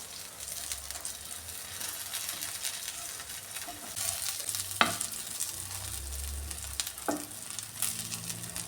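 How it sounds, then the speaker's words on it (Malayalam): Fish frying in oil in a pan gives a steady close sizzle throughout, with a couple of sharp scraping clinks as pieces are turned, and no talking. "ഈ ഫിഷ് എല്ലാം ഫ്രൈ ആയിട്ടുണ്ട്."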